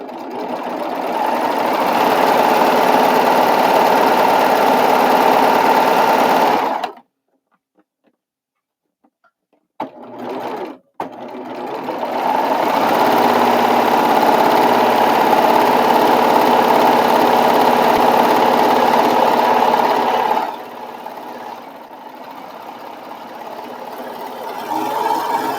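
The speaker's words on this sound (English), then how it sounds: "I'm going to do a rolled edge right along the edge of it." A serger stitches a rolled hem along a fabric edge: a loud, fast, steady mechanical whir that stops, restarts in short bursts, runs long again and then drops to a quieter hum.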